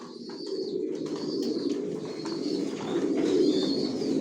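Young original racer pigeons in a loft coo steadily, several soft overlapping calls layered with faint chirps and shuffling, close and continuous with no talking.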